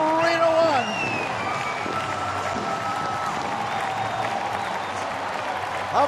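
A big Saturday-night baseball crowd roars and cheers after a home run, a sustained loud wash of voices with applause and some whistles throughout, swelling again at the end.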